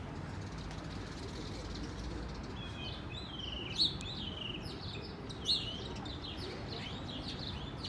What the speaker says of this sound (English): So a lot of birds right there.